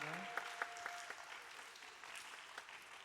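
Church youth congregation applauding together in thanks after a service, steady clapping at moderate distance that fades out over a few seconds.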